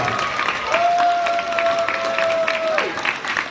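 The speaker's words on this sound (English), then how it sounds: "let's stand so we can give you a big round of applause" A crowd applauds continuously, dense clapping with a held tone running through it, moderately loud throughout.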